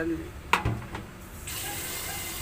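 Tap water runs into a sink during home cooking, a faint steady splashing stream that starts after a brief clatter and holds on to the end.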